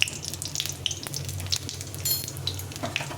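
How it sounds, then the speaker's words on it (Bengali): Dried red chili, bay leaf and cumin frying in mustard oil in a pan, a soft continuous sizzle with small crackles and pops, close and fairly quiet, no voices. "একটা শুকনো লঙ্কা ফাটিয়ে দিলাম, একটা তেজপাতা, আর এখানে একটু জিরে নিলাম।"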